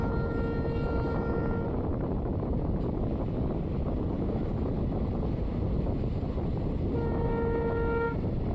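A train on the Hospet to Davanagere line rolls into Mariyammanahalli railway station, giving a loud, steady rumble throughout, with a whining tone at the start and again near the end. No one speaks.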